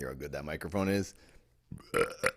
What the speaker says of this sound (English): but you'll hear my burps in 4D